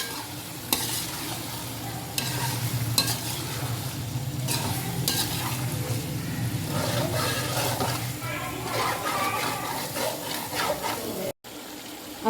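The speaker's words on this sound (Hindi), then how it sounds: "और इसको थोड़ा सा फ्राई कर लेते हैं।" Mutton pieces and sliced onions sizzle steadily in a pan while being stirred, with scraping stir strokes over a continuous frying hiss, close and fairly loud throughout.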